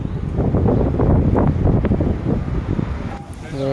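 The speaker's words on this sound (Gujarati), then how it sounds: "ખૂબ સરસ મજાનો ઠંડો ઠંડો પવન વહી રહ્યો છે" A cool evening wind blows hard across the microphone outdoors, a loud continuous rumbling buffet that drops away briefly near the end, where a faint tonal hum is heard.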